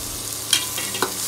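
Red and green capsicum sizzling in a frying pan while being stirred, a steady soft hiss with a couple of light scraping clicks from the spoon.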